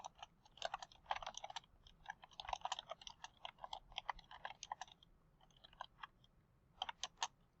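Typing on a sticky computer keyboard, with quick, uneven bursts of clicking keystrokes heard up close, pausing briefly before a final flurry of taps, with no talking.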